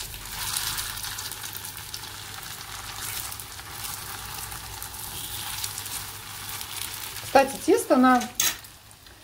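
Syrniki frying in a pan give a steady, close hissing sizzle that runs throughout, with someone briefly speaking near the end.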